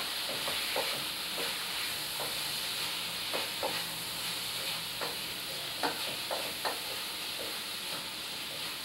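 Cumin, coriander, turmeric and chili powder sizzle in a hot pan for an Indian curry-tomato onion spice blend: a steady, close frying hiss with scattered soft clicks and pops throughout, and no talking.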